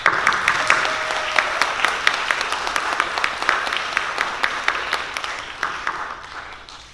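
An audience at a writers' summit claps steadily, a dense, loud wash of applause that slowly tapers off toward the end.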